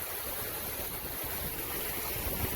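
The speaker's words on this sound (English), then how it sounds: "Oh, that big old waterfall going down there." A big waterfall on a rocky coast running down to the sea, heard as a faint, steady distant rush of falling water with no voices.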